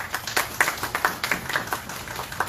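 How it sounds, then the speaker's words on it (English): Scattered hand clapping from the audience at a Ramayan satsang in a Radha Krishna temple, a modest group producing an uneven, moderately quiet run of individual claps rather than a full roar. "Let's give him a round of applause."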